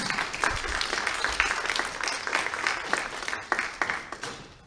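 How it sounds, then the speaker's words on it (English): An audience applauds after an introduction at a high school National Honor Society induction ceremony, a steady wash of many hands clapping at moderate level, with individual claps popping out and the applause thinning toward the end. "give Mr. Sears another round of applause"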